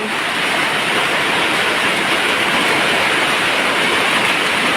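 Heavy rain comes down at a canal-side garden home, a thick, constant roar of water that holds steady and loud from start to finish with no one speaking.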